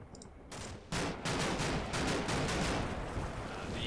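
Small arms gunfire in the Combat Mission war game, a sustained crackling fusillade of overlapping rifle and machine gun shots that kicks in loudly after a brief quieter lead-in and continues steadily to the end.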